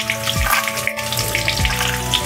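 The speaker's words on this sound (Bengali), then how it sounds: "একই তেলে আমি আলুগুলো ভেজে নেব" Potato pieces fry in hot oil with a dense, continuous crackling sizzle, close and loud, with a low hum underneath and no talking.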